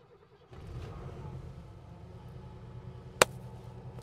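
A 1971 Mercedes-Benz 300SEL 6.3 engine fires after a moment of quiet and settles into a low, steady idle rumble, with a single sharp click near the end.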